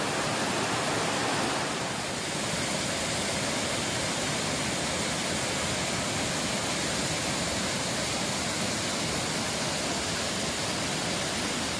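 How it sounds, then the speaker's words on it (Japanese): Fukiware Falls in Japan pours down as a dense, steady roar of falling water, a continuous broadband wash that stays even and full throughout with no voices. "おーすごい、滝になって水が落ちてる。"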